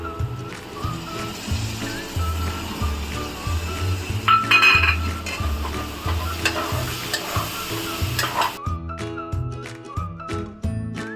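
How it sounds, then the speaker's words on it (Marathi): Tomato puree stirred into hot oil and roasted masala for a Maharashtrian chana soyabean curry, sizzling and frying steadily with repeated stirring scrapes and occasional clinks of the spoon against the pan, with background music running underneath. "ह्याच्यामध्ये 2 टॅमॅटोची प्युरी मिक्स करूया"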